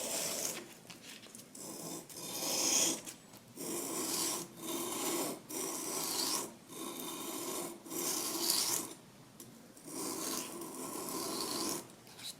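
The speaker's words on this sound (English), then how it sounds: "you place your index finger onto this blade like this, and then you just sharpen it like this" A knife blade is sharpened by hand, with one finger pressing on the blade. Rhythmic rasping strokes come about once a second, close and moderately loud, separated by brief pauses, with no talking.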